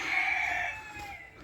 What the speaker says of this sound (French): vous voyez une poule qui est ici